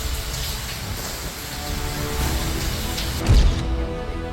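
Heavy rain falls with cold winds in Sultanpur, a steady dense hiss throughout, with a louder low thump near the end.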